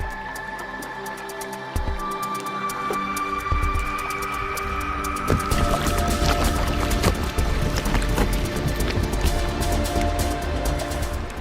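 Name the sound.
icebergs in water with bubbles popping and ice grinding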